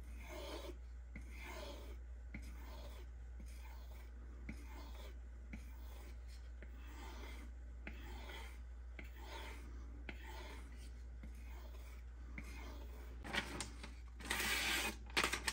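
A Spyderco Manix knife in CPM 15V steel is stroked along a strop loaded with CBN paste, giving soft, rhythmic raspy rubs repeated every second or so over a steady low hum.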